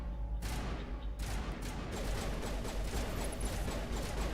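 Gunfire rattles in a Mass Effect Legendary Edition firefight, quick bursts of shots and crackle over a steady low rumble, faint and somewhat distant, with no talk.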